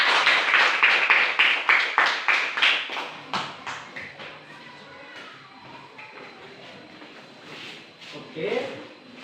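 A class claps hands in a quick, loud, even rhythm that slows and fades into scattered claps, followed by quiet room sound and a brief voice near the end.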